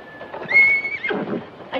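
A high-spirited young horse gives one loud, close whinny that rises and wavers for about a second, then a short snorting burst follows at the end.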